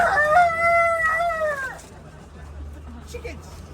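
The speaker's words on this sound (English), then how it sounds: "Chickens will fly up and eat the bananas if the farmer does not get them in time" On a Kauai farm, a rooster crows loud and close in one long call, followed by quieter clucking of chickens against a faint outdoor background.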